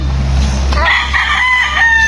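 A fighting rooster crows loudly and close, a drawn-out strained call over low background rumble.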